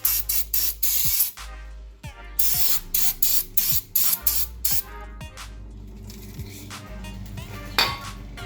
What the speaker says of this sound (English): clean the bell housing real quick with brake cleaner